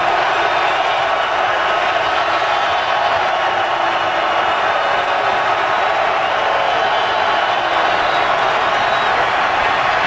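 Steady roar of a large stadium crowd at an NFL game in Buffalo, Dolphins visiting the Bills, a dense continuous wash of distant voices with no breaks.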